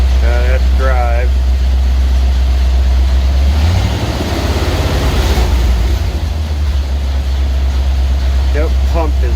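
A car engine idles loudly and steadily in drive with a failed transmission that sends no power through, a deep continuous rumble that dips slightly midway, with brief voices at the start and end.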